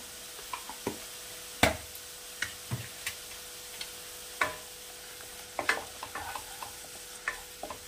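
A spoonful of ginger garlic paste sautéing in a pan for a thin Bengali prawn curry, with a soft sizzle under irregular sharp clicks and taps of a spoon against the pan.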